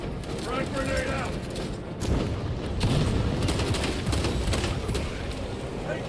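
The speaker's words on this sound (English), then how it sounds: "Frag grenade" A frag grenade blast and steady gunfire in the PS5 video game Warhammer 40K Space Marine 2, a dense continuous barrage of shots and explosions with a heavier burst near the two-second mark, loud throughout.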